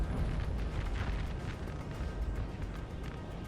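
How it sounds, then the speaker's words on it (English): Continuous artillery bombardment on a Napoleon: Total War battlefield, French guns pounding Austrian lines: a dense, steady rumble of overlapping booms and bursts at a moderate distance with no voices. "the French team's strategy is just to pound the area with their artillery"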